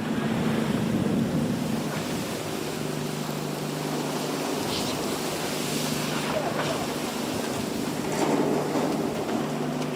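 Atlantic waves off Senegal washing over an open fishing boat, a loud continuous roar of wind and water with intermittent splashes and a low steady engine hum underneath.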